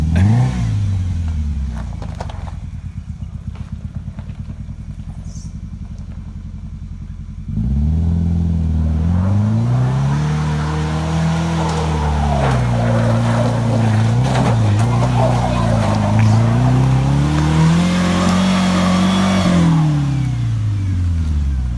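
A two-wheel-drive Ford Ranger revs hard off-road with one wheel spinning, the engine note climbing and holding high in long rising and falling surges, loud and close, with no talking.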